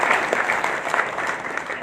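A crowd at a programme in Guwahati, Assam claps in brief, steady applause, fairly loud and continuous.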